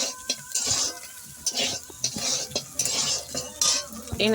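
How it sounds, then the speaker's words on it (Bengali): Freshwater snails hit hot oil in a wok (kadai) and fry, with repeated metallic clinks and scrapes of a utensil over a steady hiss of sizzling, close and fairly loud, with no talking. "তো এখন আমি তেল গরম হয়ে গেছে, আমি এখন গুগলি দিয়ে দিলাম"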